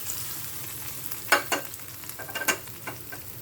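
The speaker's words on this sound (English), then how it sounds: "So now I would be putting this tempering on the raita" Hot tempering oil is poured over beetroot raita and gives a soft crackling sizzle with a few sharper pops and clinks, close and moderate in level, against a low background hiss.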